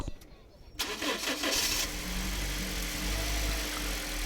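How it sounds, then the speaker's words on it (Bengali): A Toyota Hiace Super GL van with push start cranks briefly, then its engine catches and settles into a steady, close idle with a low rumble. "এই হচ্ছে গাড়িটার ইঞ্জিন সাউন্ড কন্ডিশন একবারে নতুন গাড়ি"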